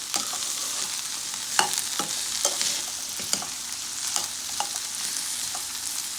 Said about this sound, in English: I'm gonna mix in my ingredients well.